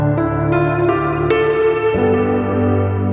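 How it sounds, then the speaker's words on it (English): Piano chords played through a reverb effect in Ableton Live, each struck note blooming into a long, shimmering wash of echo that sustains and overlaps, bright and close with no talking. "I've got a tutorial on how to make this reverb."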